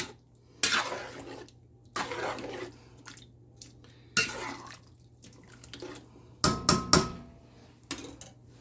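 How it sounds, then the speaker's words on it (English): A spoon scraping the bottom of a pot of rice cooking with chicken, lentils and black beans, close up in short bursts with clanks against the metal, stronger clattering strokes near the end. "scrape the bottom properly and get every inch of the pot"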